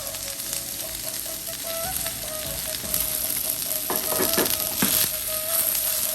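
Chopped onion, green chili and curry leaves hit hot oil for a ladies' finger thoran, giving a steady close sizzle with brighter crackling bursts and light stirring scrapes midway, no voices.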